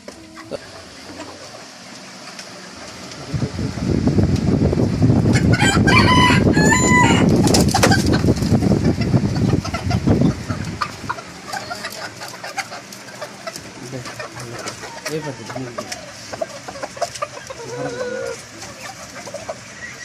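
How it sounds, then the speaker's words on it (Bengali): Silver Cochin rooster and hen in a cage, a loud close crow or flurry of calls lasting several seconds, followed by scattered clucks and coop sounds against a faint background. "এটা একটি কোচিন মুরগি, তো সিলভার কোচিন।"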